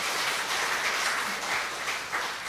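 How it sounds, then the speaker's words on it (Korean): A church audience at a health talk for a pastors' gathering breaks into steady applause, a dense, even wash of many hands clapping that holds at a fairly loud level for the whole stretch, with no voices above it. "박수! 박수! 박수!"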